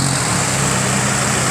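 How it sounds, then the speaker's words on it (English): A loud, steady roar from a 200 hp Suzuki outboard motor at full power, with a strong low drone, continuous and close, with no voices. "The 200 Suzuki's roaring into power, giving him a flying start."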